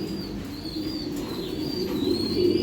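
Female racing pigeon cooing close by, a low continuous throaty murmur with a faint high whistle above it, steady and fairly loud, with no voices.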